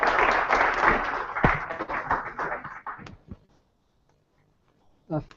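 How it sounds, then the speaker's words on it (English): A round of applause at a medical research paper awards ceremony, with clapping from the audience that thins and fades out after about three seconds, followed by quiet and a brief voice at the end. "A round of applause."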